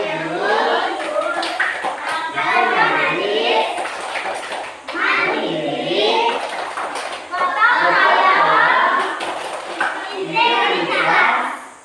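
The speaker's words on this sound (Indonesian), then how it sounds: "kita berdiri untuk melakukan tepuk PPK" A group of schoolchildren performs the rhythmic PPK clap chant in a classroom, patterned bursts of clapping mixed with their voices chanting along, repeated over several cycles at close range.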